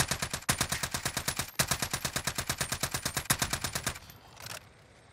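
Rapid automatic fire from an MW AUG rifle in Call of Duty on Rebirth Island, a long steady stream of close, loud shots with a brief gap, then fading off after four seconds.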